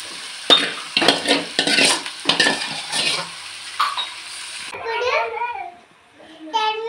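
Chicken for a curry fries in a pan and is stirred, with close scraping strokes and sizzling in bursts, then a voice speaking over the quieter cooking.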